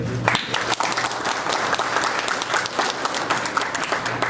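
Audience at a Halloween Horror Nights presentation at the Orlando History Center applauds steadily, with dense continuous clapping from a sizeable crowd filling the room.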